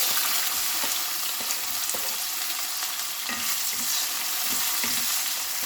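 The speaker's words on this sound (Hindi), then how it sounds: "गार्लिक और प्याज को हम लाइट गोल्डन ब्राउन होने तक कुक करेंगे" Chopped onion with cloves and asafoetida fries in hot oil in a pan, giving a loud, continuous close-up sizzle with occasional crackles and stirring scrapes and no voices.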